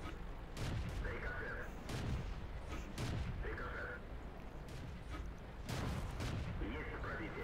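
Tank cannon shots boom repeatedly in a World of Tanks battle with a Churchill III, several sharp broadband blasts spaced a second or two apart over steady engine rumble and game noise.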